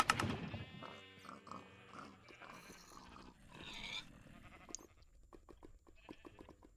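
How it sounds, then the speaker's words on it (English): Sheep from a spawner in the video game Minecraft bleat several times in close succession, mixed with other brief game sounds and followed by a run of quick sharp clicks. "that spawner in particular is still a sheep spawner"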